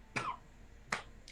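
Two sharp, short coughs after someone holds their breath, well spaced, with the start of a third at the very end, fairly quiet and with no talking.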